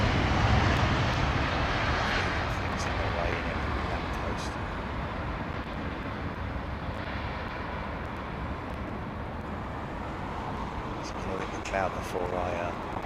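An airliner climbs out about two minutes after departure, a broad, distant engine rumble holding steady and slowly fading, with people talking intermittently over it.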